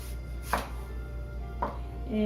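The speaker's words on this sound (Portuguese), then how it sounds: "Eu vou picar ela na tábua aqui, bem miudinho." An onion being chopped finely with a knife on a cutting board, two distinct, close knife strikes about a second apart against a steady low background hum.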